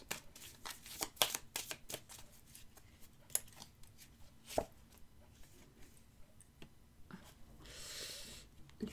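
Tarot cards shuffled by hand in quick, dry riffling bursts, then a card drawn, close and fairly quiet with scattered taps and rustles between, and no talking.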